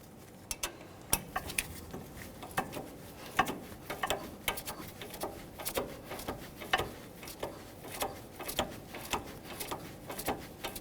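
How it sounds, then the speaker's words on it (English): A wrench tightens the nut on the upper control arm of a 2003-2011 Mercury Grand Marquis. A steady run of small metallic clicks and ticks repeats close by throughout, with no talking. "We'll use a 15mm to tighten the nut and a 7mm to hold the stud"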